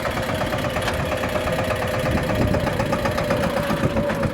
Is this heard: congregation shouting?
no